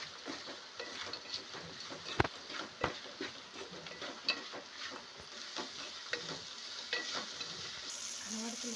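Salt being stirred into biryani in a cooking pot: a steady sizzle runs throughout, broken by sharp scrapes and clacks of the spoon against the pot, close and alone with no talk.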